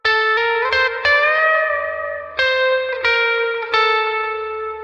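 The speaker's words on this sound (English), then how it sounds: "Once you throw on this gigantic reverb." Electric guitar plays sustained notes drenched in a huge, washy reverb, each strum blooming and lingering into a long ambient tail.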